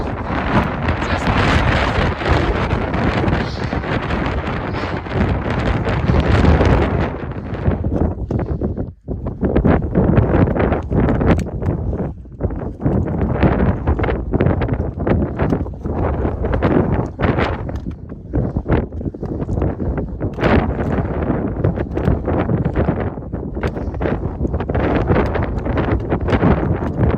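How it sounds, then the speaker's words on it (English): Strong wind buffets the microphone on Mount Washington at dusk, a loud, continuous roaring rumble with gusting surges and a brief lull, heard alone without talk. "the wind is definitely picking up"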